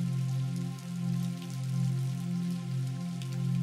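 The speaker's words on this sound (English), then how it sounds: "it starts to rain." Steady rain pours down on a mountainside, a dense, even hiss of drops that holds throughout beneath a low, sustained tonal drone.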